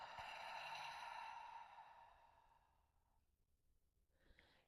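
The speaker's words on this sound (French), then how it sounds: "et expirer tout par la bouche." A long, steady exhale through the mouth during yoga breathing, a soft breathy rush that fades out over about three seconds, followed by a faint brief breath near the end.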